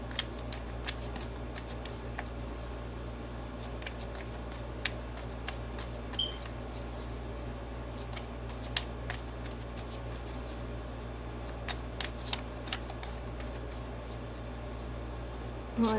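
Tarot cards are shuffled steadily and close up, a continuous soft rustle with frequent sharp flicks over a low steady hum, no voices.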